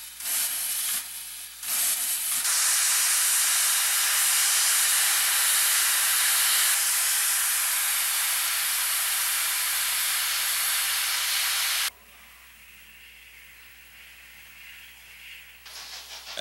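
K36 steam locomotive number 489 releasing a loud, sustained blast of hissing steam that starts after a few short bursts, runs near and steady, then cuts off abruptly to a softer low hiss.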